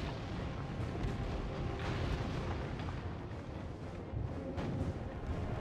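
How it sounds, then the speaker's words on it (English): Cannon fire in the video game Kameo: Elements of Power, dense booming blasts and rumbling impacts layered over a loud, busy game soundscape, with several heavier bursts spread across the stretch. "There's a cannon shooting at me."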